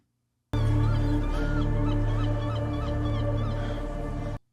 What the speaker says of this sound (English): It was a weird CGI bird.